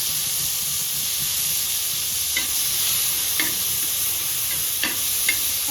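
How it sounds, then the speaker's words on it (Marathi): Tomatoes frying in a pan for a Marathi besan pithal, a steady hiss of sizzling throughout with a few soft scraping stirs near the end. "टमाटा हलवून घ्यायचं."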